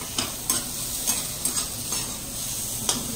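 Khichuri of rice, lentils, pointed gourd, onion and ginger sizzles in a pan while a spoon stirs it in regular scraping strokes, about one every half second, close and fairly loud.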